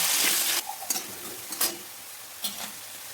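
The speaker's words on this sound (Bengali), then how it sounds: "আলুটা আমার লাল করে ভাজা হয়ে গেল" Loud crackling sizzle of potatoes frying in a pan, punctuated by a few light scrapes and taps of a spatula.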